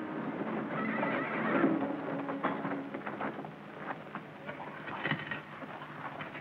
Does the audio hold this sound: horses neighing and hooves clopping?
yes